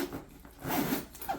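A zipper on a Filson 256 leather briefcase is pulled in a few short raspy strokes, close and fairly quiet, with brief pauses between pulls.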